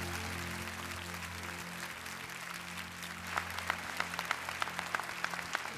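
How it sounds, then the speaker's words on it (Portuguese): A church congregation at a Baptist Sunday morning service applauds, faint and diffuse at first, then clearer claps and crowd sound rising toward the end. "vamos aplaudi-lo como ele é digno"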